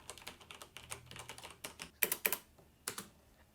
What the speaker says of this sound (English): This is overall a much quieter keyboard.